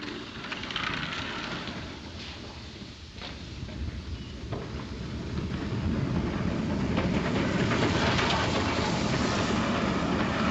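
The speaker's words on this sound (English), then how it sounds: "Train's coming in." A steam-era train arriving at a station rumbles steadily, the low rolling noise swelling louder over the final seconds as it draws closer, with faint clanks and hiss on top, in a 1941 film.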